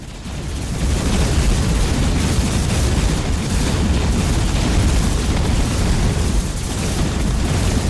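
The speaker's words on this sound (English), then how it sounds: "That's a lot of missiles." Missile explosions in the Hyper Empire video game rumble as a dense, continuous barrage of loud booms and bursts, filling several seconds without any talk.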